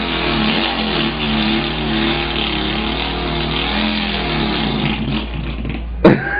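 A voice imitates a Volkswagen engine with the mouth, a continuous buzzing drone rising and falling like revving, then ending abruptly in a sputtering stall, loud and close.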